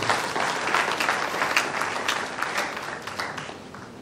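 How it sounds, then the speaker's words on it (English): A university audience at a Faculty of Social Sciences guest lecture claps for the guest speaker: steady, fairly close applause for a few seconds with individual hand claps standing out, fading slightly toward the end. "So a round of applause to our guest speaker."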